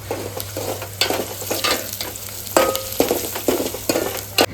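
Onions frying in a pan for a village-style bajra rotla shaak breakfast, a steady close sizzle broken by repeated scraping stir strokes and spoon knocks, with no voices.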